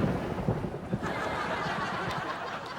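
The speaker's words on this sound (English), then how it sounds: "Bolts of lightning." A cartoon thunder sound effect from lightning bolts gives a dense, rumbling crackle that stays loud and sustained for about three seconds, with no talk over it.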